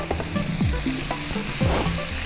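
Chopped tomatoes frying in a pan while cooking Punjabi mutton curry, giving a loud, continuous sizzle with a few bursts of stirring and spoon scrapes, and no voices.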